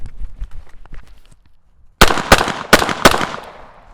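Four sharp pistol shots ring out close by in a shooting drill, two quick pairs fired at targets from 40 and then 20 after a short run, following a stretch of low background murmur.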